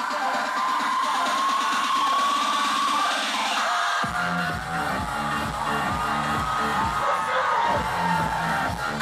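A stadium crowd roars and cheers before kickoff at a Euro 2016 football match while a DJ warms them up, dense cheering joined midway by loud thumping dance music.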